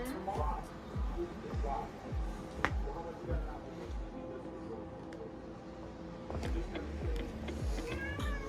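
A cat meows several times, fairly close, amid soft background talk and household noise.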